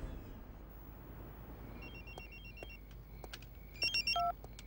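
An electronic telephone ringer trills in short repeated bursts over a faint background hiss, growing louder toward the end of the clip.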